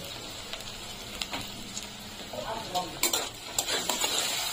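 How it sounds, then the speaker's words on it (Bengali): Ground spices with turmeric fry in a pan for a Bengali vegetarian mustard-tomato dish, a faint sizzle under intermittent scrapes and clinks of a spoon stirring against the pan. "দিয়ে কিছুক্ষণ ভাজা ভাজা করে নিয়ে নিব যতক্ষণ পর্যন্ত হালকা বাদামি রঙে পরিণত না হচ্ছে।"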